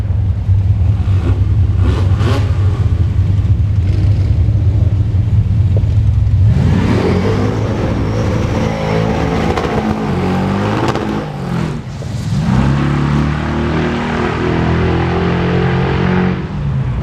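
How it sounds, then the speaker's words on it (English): Big-block V8 in a 1973 Plymouth Scamp at a drag racing event, loud and close: a deep, rumbling idle that breaks into hard revving and a roaring pull, a short lift, then more roaring. "73 Plymouth Scamp big block power from the Mohawk 62 YouTube channel"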